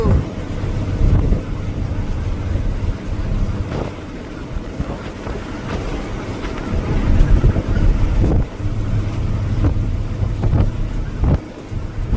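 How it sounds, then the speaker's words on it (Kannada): Strong wind buffets and roars against the microphone in gusts near Ramanagara, with a Tata truck rumbling underneath and occasional voices. "ಗಾಳಿ ಏನ್ ಗಾಳಿ"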